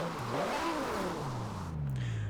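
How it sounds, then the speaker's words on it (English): A BMW Z4 roadster with its roof down revs hard in Forza Horizon 4, the engine note climbing and falling through several loud, close sweeps before easing off. "That's just hearing this this engine with no roof."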